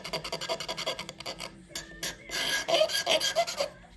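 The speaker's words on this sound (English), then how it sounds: "it just scrapes those right off and makes it nice and clean" A sharp X-Acto blade scrapes small imperfections off a painted craft piece, making repeated close raspy strokes in a steady rhythm, with a short pause in the middle.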